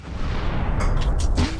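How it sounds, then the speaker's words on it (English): Off-board artillery strike in the tank wargame Tigers on the Hunt: a low rumbling barrage with a few sharp, close blasts bunched near the end, no talking. "The off-board artillery attacks."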